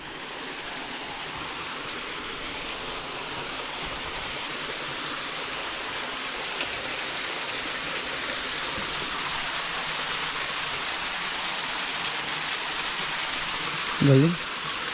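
Steady broadband rush of spring water flowing from a mountain, continuous and fairly close, with a brief faint voice-like sound near the end.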